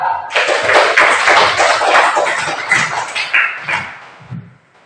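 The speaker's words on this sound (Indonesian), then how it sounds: "Tepuk tangan buat pertanyaan si Via." A small classroom group claps for a student's question, quick close bursts of hand claps that build, then thin out and fade within a few seconds.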